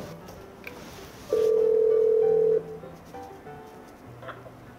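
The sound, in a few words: kiosk intercom call button ringing the control room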